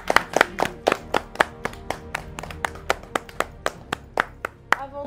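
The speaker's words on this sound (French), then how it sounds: "Moi je les applaudis déjà." A few people clapping their hands for contestants at a crowning finale, distinct individual claps in an uneven rhythm, close and clear with little else behind them.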